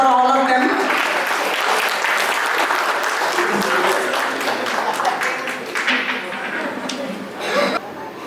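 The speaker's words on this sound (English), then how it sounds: "Please, a lot of applause for all of them" Sustained audience applause rings out for couple quiz participants at an awards night, a dense, steady wash of clapping that holds for several seconds with some voices mixed in.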